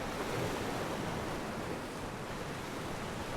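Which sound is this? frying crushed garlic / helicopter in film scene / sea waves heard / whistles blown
sea waves heard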